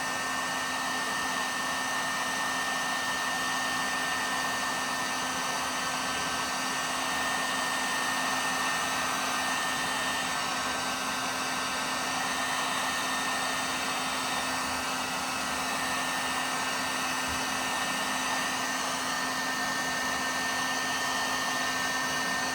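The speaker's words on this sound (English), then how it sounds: "The most difficult thing is getting the actual heat gun in the right spot while you're doing it at the same time" Heat gun blowing hot air to soften factory sound deadening inside a 2006 Dodge Ram Mega Cab, giving a steady, loud, continuous whooshing roar with a fixed motor hum, unbroken for the whole stretch, with no talk.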